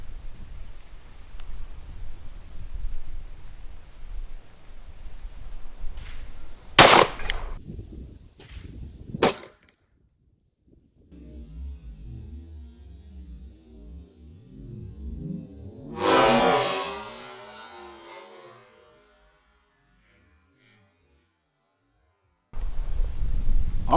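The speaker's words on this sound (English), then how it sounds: "Let's put these 3 rounds down range and see how it does in the clear ballistics gelatin." Federal HST hollow point rounds fired into a block of clear ballistics gelatin: two sharp, loud gunshot cracks about two seconds apart, followed later by a longer burst of noise, with no talking.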